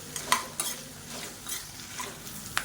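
Onions sauté in a pan with a bit of tamarind, giving a steady soft sizzle under repeated scraping stirs and light clinks of a utensil against the pan, close up with no talking.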